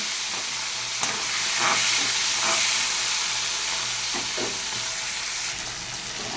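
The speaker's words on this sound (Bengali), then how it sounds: "সবার আগে আমি চিংড়ি মাছটাকে ভেজে নিচ্ছি" Shrimp fry in hot oil in a pan for a potato-and-shrimp curry, giving a steady, close sizzle and hiss with occasional stirring scrapes and no talk.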